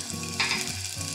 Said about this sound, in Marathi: छान हा मसाला परतून घेतलेला आहे